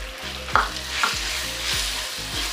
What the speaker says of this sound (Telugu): ఈ పచ్చిమిర్చి కూడా వేగినాక ఈ మామిడికాయ తురుము వేసేయాలి.